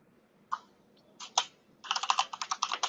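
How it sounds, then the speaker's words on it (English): Someone types on a computer keyboard: a few scattered key clicks, then a quick run of steady tapping, fairly close and clear with no talk over it. "there is somebody's typing in, so mute yourself"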